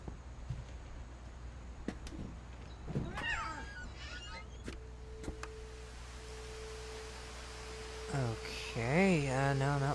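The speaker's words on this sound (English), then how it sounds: "I just heard a kitty cat." A cat meows in the video game What Remains of Edith Finch, a few clear rising and falling mewing calls near the end over a steady ambient hum, preceded by faint scattered sounds.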